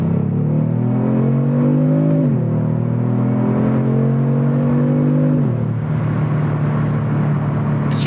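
A 2020 Kia Stinger GT with its 3.3-litre V6 and all-wheel drive pulls hard at country-road speed, the engine note climbing steadily through two gear changes, heard loud and steady from close by.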